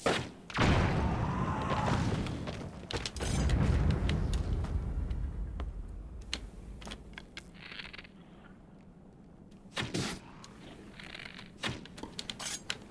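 Bomb blasts in The Legend of Zelda: Tears of the Kingdom as goblins are wiped out: a heavy thud opens, a second boom follows, then quieter rumbling and a few later sharp impacts.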